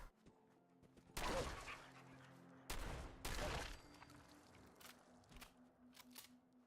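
Shotgun firing in Fallout 4, two loud separate blasts a couple of seconds apart with short echoing tails, followed by fainter scattered shots and impacts.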